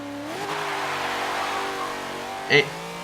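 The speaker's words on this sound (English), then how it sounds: "Wheel spin getting it into 4th gear." Top Gear car in Forza 7, driven by the Stig, accelerating hard with wheel spin while getting into fourth gear: a loud, steady engine drone with rising tone, closing with a brief sharp burst.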